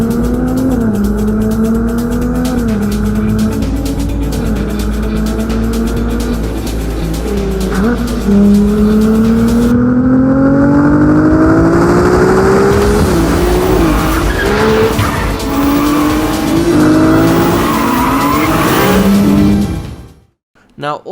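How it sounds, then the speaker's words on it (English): A Ferrari 296 GTB V6 supercar engine revs hard toward 8500 RPM, its loud rising howl climbing through several gear changes with tire squeal and skidding, close and dominant before cutting off abruptly at the end. "when you switch the V6 engine on, you can switch the radio off, because this thing sounds like a Ferrari should"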